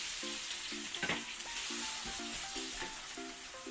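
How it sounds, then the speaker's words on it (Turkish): Steady crackling sizzle of potatoes frying in hot oil, close and even throughout, with faint tonal beeps and light clinks in the background. "Altını kıstığım yağın içerisine yavaşça ekliyorum"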